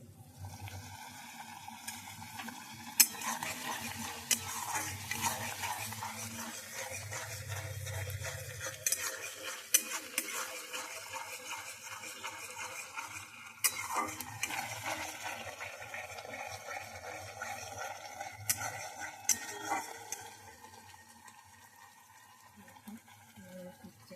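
Egg curry with boiled potatoes being sautéed in a pan: quiet, continuous scraping and stirring with occasional sharper utensil knocks against the pan, a soft hiss of frying underneath, steady and close.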